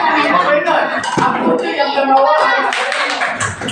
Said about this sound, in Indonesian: Tepuk tangan Naila semangat Naila